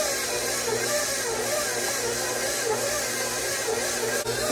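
Electric stand mixer kneading homemade bread dough, a steady, loud motor whir with a constant droning hum and no break in the sound.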